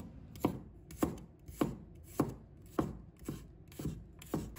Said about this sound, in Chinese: 把它切成片